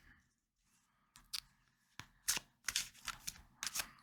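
Fortune cards being shuffled, a few soft riffling bursts and card slaps that grow busier toward the end after a quiet start, close by with no talking.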